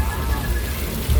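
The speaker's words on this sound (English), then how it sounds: "you might be able to see the sprinklers where that rain is coming from" Artificial rain pours from hidden sprinklers in trees and on rooftops during a simulated thunderstorm effect on the Universal Studios Hollywood studio tour, making a steady near hiss of falling water with low rumbling underneath.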